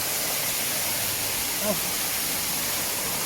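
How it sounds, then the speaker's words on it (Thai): Phromwihan waterfall in Khun Han, Sisaket, Thailand, heard as a steady, dense rushing hiss of falling water that fills the whole scene, with a faint brief sound rising briefly above it. "นี่แหละครับ คือน้ำตกพรม วิหารอำเภอขุนหาร จังหวัดศรีสะเกดครับ"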